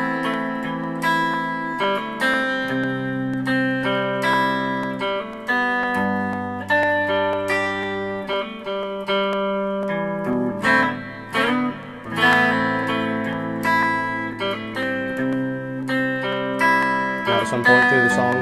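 An electric guitar plays the verse of a song slowly, with steady picked arpeggios over sustained low notes and a clean effected tone, continuous and close throughout.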